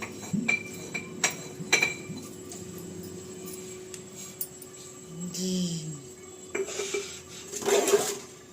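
Pots and dishes are scrubbed and washed by hand, with repeated metallic clinks and clatters of vessels, some sharp knocks, a short scraping stretch and a final burst of rattling, all close by.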